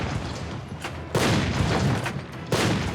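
A massed artillery barrage from about 1,900 cannons in the Ardennes on December 16th: heavy booms that roll into one another in a dense, continuous rumble, with sharp fresh blasts punching through.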